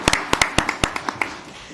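A few people clap at a town hall meeting honoring state legislators, with about a dozen sharp, uneven claps spread across under two seconds. The applause sounds close and sparse, and it fades out near the end.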